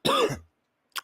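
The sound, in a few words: cough and throat clearing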